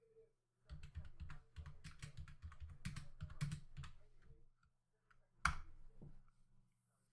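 Keyboard typing on a computer while a router configuration is entered: a dense run of close, crisp keystroke clicks for several seconds, a short pause, then one louder sharp key strike like hitting Enter.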